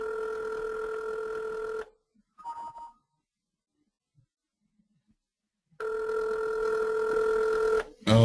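A telephone ringback tone after dialing a parts store, a steady electronic ring burst, a pause with faint sounds, then another long ring, clear and close.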